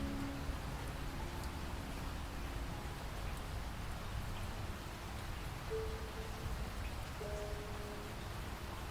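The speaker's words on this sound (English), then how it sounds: "The rain was coming down in sheets" Heavy rain pours steadily on a night somewhere off the beaten path in California, a dense, even hiss that runs unbroken at the same loudness throughout, with faint tonal hums beneath.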